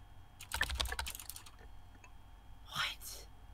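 Quiet keyboard typing from the chat game Emily Is Away: a quick burst of soft clicking keystrokes, a pause, then a brief faint chime and a few more taps.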